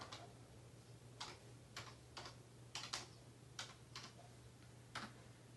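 Someone types a Wi-Fi password on a computer keyboard while setting up a Raspberry Pi 3B. The keystrokes are quiet, close and sparse, with about a dozen separate clicks over a faint steady hum.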